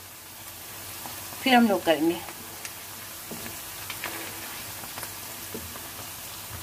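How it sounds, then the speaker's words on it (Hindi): Onions frying on high flame in a pan, a steady sizzling hiss with brief stirring clatter near the start, while a person talks over it. "यहाँ हम प्याज ये हाई फ्लेम हमने रखा हुआ है, इस पर हम फ्राई करें"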